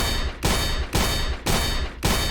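Rapid gunfire from Aim Lab target practice at blue balls: five quick bursts of shots, each a dense, punchy crackle roughly half a second apart, loud and close, with no voices.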